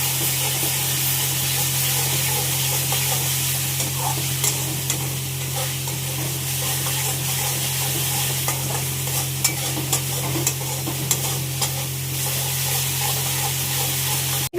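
Spice paste with whole green chillies, black cumin, salt and tomato sizzling in a hot pan, a steady loud frying hiss broken by frequent scraping stirs, with no speech.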